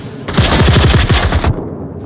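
Rapid automatic gunfire in the VR shooter Onward, a loud close burst of about a dozen shots lasting just over a second before cutting off.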